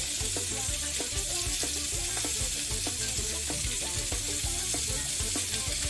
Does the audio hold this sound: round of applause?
no